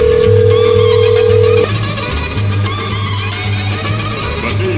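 A telephone rings during a call-in radio show, a steady electronic ring tone sounding loudly for the first second and a half before breaking off, with a low background hum continuing afterward.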